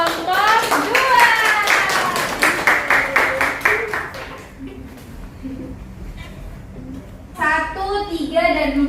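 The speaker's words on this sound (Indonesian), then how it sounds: "Kita beri aplaus untuk kelompok 2." Classroom applause for a student group, clapping from several children in a lively burst lasting a few seconds under a teacher's voice, then fading to quiet before talk resumes.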